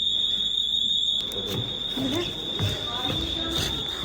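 A tablet's anti-theft security alarm in a store gives off a continuous, piercing high-pitched tone. It persists under someone talking and the background noise of the shop.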